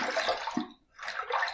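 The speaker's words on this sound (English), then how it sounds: "Okay, I'm going to throw a little water on my face. Let's rinse." Water splashed onto a face by hand during a wet shave rinse, a couple of bursts of broadband splashing separated by a short pause, close and fairly loud with no talking.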